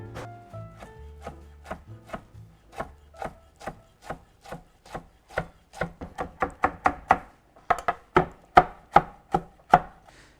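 A knife chops rehydrated wakame seaweed steadily on a cutting board, sharp regular strikes that speed up into a quick rhythm, close and clear with no talking.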